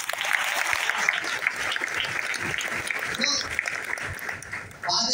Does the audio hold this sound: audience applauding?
yes